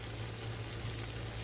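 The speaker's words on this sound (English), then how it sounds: "I'd rather just use my old cast iron pan. I'll get it so far and then I'll flip it over so I can get even frying on both sides." Falafels frying in an old cast iron pan, a steady dense sizzle of hot oil, close and even throughout with no talking.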